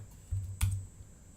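A computer keyboard is typed on during a 3D animation lab tutorial, giving a couple of quiet, close key clicks in otherwise faint room tone, with no talking.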